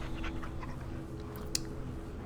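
A dog in a video game pants softly and gives a faint whimper amid steady low game background sound, with a single sharp click partway through, quiet and close.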